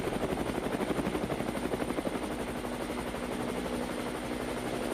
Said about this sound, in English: The roar of the helicopter shakes the treetops as the hunters finally spot him.